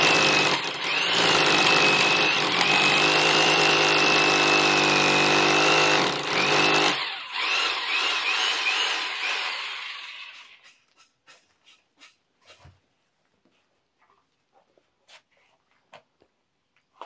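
A power drill bores into a masonry wall on a building job site, loud and continuous for several seconds, then the whine cuts out and winds down, leaving faint scattered knocks.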